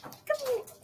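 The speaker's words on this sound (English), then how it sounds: "Also, we have a puppy." A young puppy gives one thin, wavering whimper that slides downward, close but quiet, in an otherwise calm indoor room.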